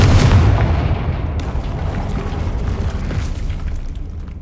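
A Confringo fire spell explodes in Hogwarts Legacy, a deep booming blast that rumbles loudly at first and then decays over a few seconds.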